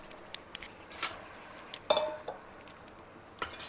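Cooked rice being stirred into a pan for home-style egg fried rice, with sparse light metallic clinks and scrapes of a utensil against the pan, quiet and close, no talking.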